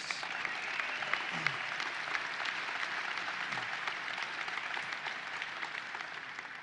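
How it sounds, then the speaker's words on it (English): Audience applause at the opening of the State Fair in Geddes, a steady, even wash of many hands clapping that holds throughout without a clear end. "Let's give a real rousing round of applause for Geddes."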